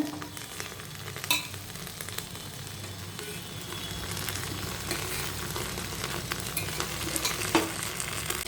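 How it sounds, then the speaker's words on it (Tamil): Arai keerai amaranth greens sautéing with garlic and onion in oil inside a pressure cooker, a low continuous sizzle broken by a few sharp scrapes and clanks of stirring. "நான் இது நல்லா வதக்கிடலாங்க"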